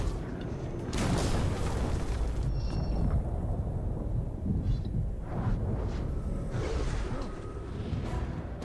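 Explosives fired and detonating in the video game Shadow of War give a string of deep booms and whooshing blasts over rumbling ambience, loud and close, with several bursts across the stretch.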